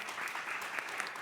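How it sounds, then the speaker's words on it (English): Audience applause at a startup pitching event, a short steady burst of many hands clapping, fairly quiet and heard alone without talk. "Round of applause."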